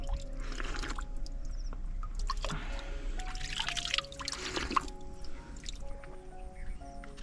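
Water trickles from a village spring high enough to drink straight from cupped hands, in a drought-hit village; a steady close dribble and splash with irregular drips and brief louder gushes, no voices.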